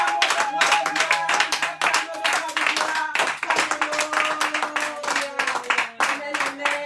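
A church congregation claps in rhythm during a French-language worship service, a steady dense run of handclaps with singing voices and a sustained tone running underneath.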